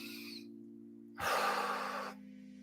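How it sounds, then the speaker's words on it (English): A single slow, deep breath drawn in the calm of a guided breathwork session, rising into a broad airy rush for about a second before fading, heard alone over a low steady hum. "to breathe in and breathe out"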